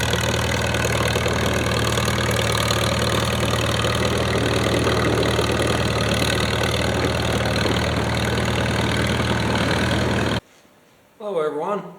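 A 1946 Allis Chalmers WC tractor engine idling steadily, loud and close with an even mechanical throb for about ten seconds before cutting off abruptly, followed by a brief voice.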